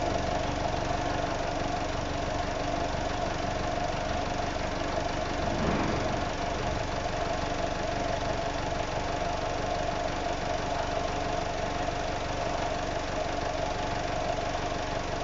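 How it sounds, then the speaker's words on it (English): A Mitsubishi L200 DI-D diesel engine, from the 2005-2015 model run, idles steadily after a service. A constant, even mechanical clatter and hum runs close and unbroken throughout with no voices. "Once it's started, leave it running for about 5 minutes to make sure it bleeds the system."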